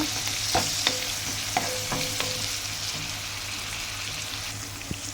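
Sliced onions softening in a pan alongside ivy gourd pieces for a tomato curry, with a steady sizzle under occasional stirring scrapes and spoon clinks, close and moderately loud, no talking.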